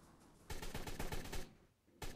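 Rapid automatic gunfire rattles in Ark Survival Evolved, a fast burst of close shots lasting about a second, a short lull, then another burst starting at the end.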